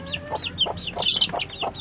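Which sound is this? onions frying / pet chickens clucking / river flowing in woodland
pet chickens clucking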